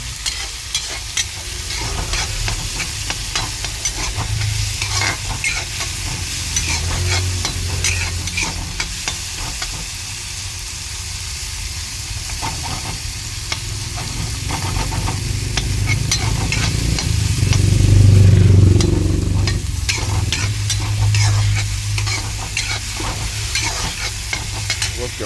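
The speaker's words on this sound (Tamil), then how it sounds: "அப்படியே போட்டு வதக்கு" Egg gravy is stirred and sautéed in a frying pan for a Tamil home recipe, steady sizzling and crackling oil with repeated scraping stirs, loud and close, swelling in intensity midway with low thumps.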